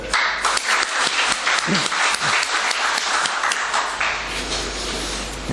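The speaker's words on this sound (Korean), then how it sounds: "박수 다시 한번 칠까요?" A church congregation applauds during a Sunday service, a loud, dense burst of many hands clapping that stays strong for several seconds before thinning slightly toward the end.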